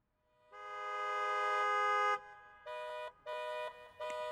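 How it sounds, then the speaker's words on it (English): A long, rising car horn blast followed by three shorter honks, layered horn sound effects sounding bright and clean with no background noise. "I'm actually going to turn down the sirens and traffic now, and I just want a layer of horns"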